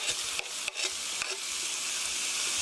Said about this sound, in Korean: 고춧가루가 타기 전에 살짝 볶아주시고요